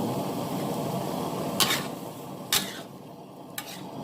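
Squid and holy basil stir-fried in a pan, with a steady bed of sizzling and scraping throughout and three sharp clinks of a utensil against the pan partway through.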